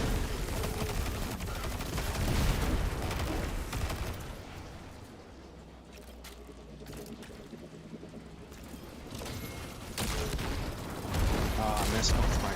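Grenade launcher shots and gunfire during a Destiny 2 Titan mission, dense rattling bursts of fire and booming impacts that ease off midway and then return loudly, with voices talking throughout.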